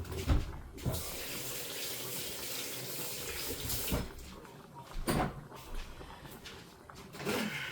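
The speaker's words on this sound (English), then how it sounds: "Let me wash my hands." Hands being washed under a running kitchen tap, a steady close rush of water with splashing changes as hands move through the stream, plus a few knocks, without talk.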